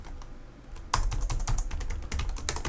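Keys on a computer keyboard clatter as text is typed: a few faint taps first, then a steady burst of fast, close keystrokes with no talking.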